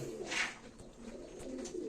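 Tumbler pigeons coo softly in a short, low, murmuring burst, with faint background noise around them and no one speaking.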